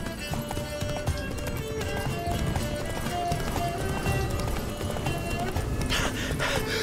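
The horse Roach gallops in The Witcher 3, a steady rapid clip-clop of hooves under game music and ambience, with brief speech over it.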